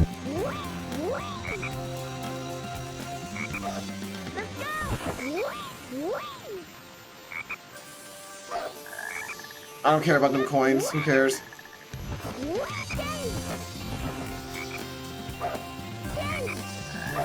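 Frogs croak repeatedly in the rainforest stage of Sonic Heroes, rhythmic warbling calls over game music, with a brief burst of louder game effects midway and someone talking at times.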